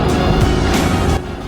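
Racing kart engine on a TeamSport Sheffield indoor track during a Grid Series round, a loud, steady close-up drone held nearly throughout and dropping off slightly near the end.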